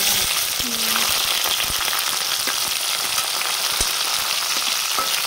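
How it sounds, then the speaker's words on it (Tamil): Mustard seeds spluttering and popping in hot oil while cooking a squid curry, a steady dense crackle of frying with sharp pops scattered throughout, close and continuous, with no talk. "கடுகு வந்து ரொம்ப சூப்பராக வந்து பொரியுது"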